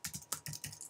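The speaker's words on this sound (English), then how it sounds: "So I'll just type in concrete" Typing on a computer keyboard, a quick close run of about six soft key clicks in under a second, faint and alone.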